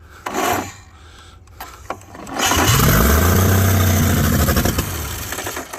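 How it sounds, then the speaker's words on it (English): An old engine cranks over on its starter with the fuel pump running, a rough grinding whir that catches and rises into a loud, steady running roar, close by. "Here comes the starter and the fuel pump."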